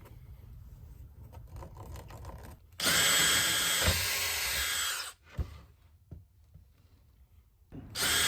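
A power drill bores a hole through the base of a homemade flight stick, a loud steady whine lasting about two seconds, followed by quieter handling noises and a brief second burst of drilling at the end.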